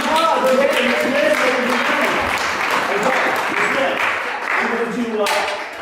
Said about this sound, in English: Come on up here, let's give Miss Lynn a round of applause.